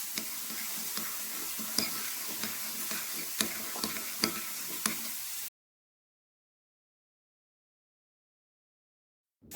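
Sweet soy sauce, salt, chili and chopped shallot being stirred together for chicken satay sauce: soft scraping sizzle with regular light clicks of a utensil for about five seconds, then silence.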